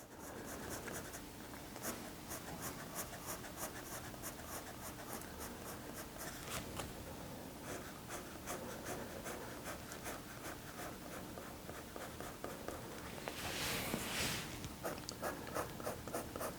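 A pencil makes repeated hatching and cross-hatching strokes on sketchbook paper while shading a blue heron drawing, a soft, steady, close scratching rhythm with no talk.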